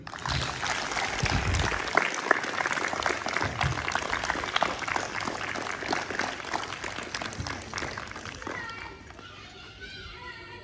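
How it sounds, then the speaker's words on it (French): Lively applause from a group of athletes gathered for a morning event, mixed with voices and cheering, fading toward the end as a voice begins speaking. "on va faire un grand applaudissement pour lui"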